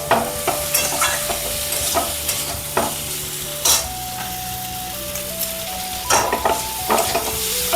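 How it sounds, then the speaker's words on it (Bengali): Sizzling pan of vegetables frying with spices for Bengali shukto, with intermittent scraping and clinks of stirring, while a simple melody plays in the background. "একটু ভালো করে ভেজে নিতে হবে মশলাটা দিয়ে"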